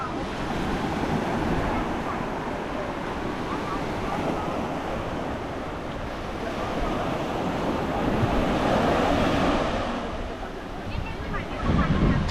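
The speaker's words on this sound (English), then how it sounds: "So this is Anjuna Beach." Surf rolls in continuously on Anjuna Beach in Goa at high tide, a broad washing roar mixed with wind buffeting the microphone, rising and falling gently throughout without clear speech.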